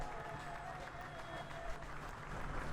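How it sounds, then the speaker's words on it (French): Guests at a civil wedding ceremony applaud and cheer as the groom stands, a steady wash of distant crowd clapping with faint voices mixed in, holding at an even level throughout. "je demanderai à Monsieur Serge de se mettre debout, bien sûr, sous vos acclamations."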